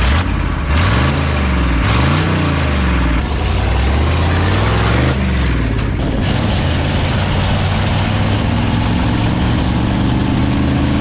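A heavy Chevy K30 4x4 rollback truck engine idles loudly and steadily, with a deep, even rumble close by throughout.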